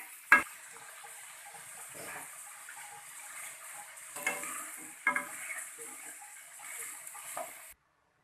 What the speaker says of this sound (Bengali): নিয়ে সুন্দর করে ভেজে নেব